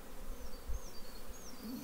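Honeybees being shaken from frames into nucleus hives, a steady dense buzzing hum that is close and fairly quiet, with no talk.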